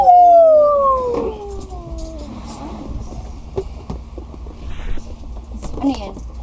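A puppy lets out a long, loud falling howl, then softer whimpers and yelps follow over quiet background noise on a boat trip in El Nido, Philippines.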